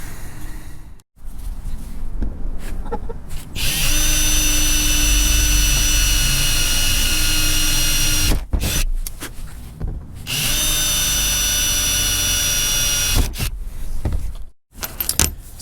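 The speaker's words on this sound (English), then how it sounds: "easier to drill through the fiberglass than it is to drill through the carpet side" A power drill bores through the fiberglass wall of a 1977 Chevy C10 camper in two sustained, high-pitched whining bursts, each several seconds long, close by and separated by short pauses.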